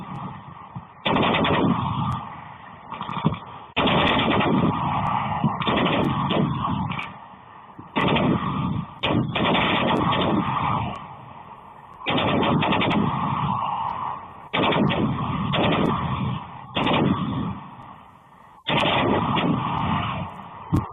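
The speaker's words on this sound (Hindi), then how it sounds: "पाकिस्तान की ओर से जिस तरह से दनादन गोलियां बरसाई जा रही हैं, मोर्टार दागे जा रहे हैं" Cross-border gunfire and mortar shelling from across the frontier, with heavy bursts of rapid automatic fire and booming blasts coming in repeated long volleys, separated by short lulls.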